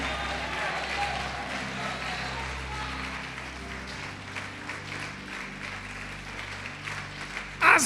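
Church congregation applauding throughout, a steady dense wash of clapping and crowd noise at moderate level, with voices mixed in and a louder burst at the very end.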